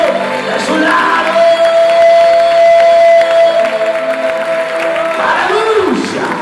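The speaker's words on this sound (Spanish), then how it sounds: "Aplaude, aplaude, aplaude a los que tienen a Dios de su lado." A church congregation cheers and applauds during a lively Spanish-language sermon, a full, continuous crowd roar with whoops and shouts, while a sustained musical tone hums underneath and voices call out over it.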